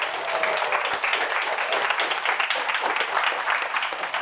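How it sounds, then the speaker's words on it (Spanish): Audience applause following a talk on studying flies, a steady wash of many hands clapping at close range, sustained and fairly loud for the whole stretch with a brief tonal whistle early on. "Le damos un aplauso."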